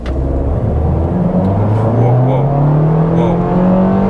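A 2021 Toyota Corolla SE in sport mode accelerates hard with a rising, droning whine as the revs climb steadily, loud and close from inside the cabin.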